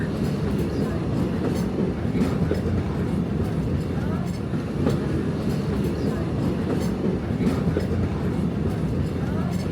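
The Walt Disney World Railroad train rumbles steadily along the tracks, close and loud, with a continuous rolling roar and faint rhythmic clatter throughout.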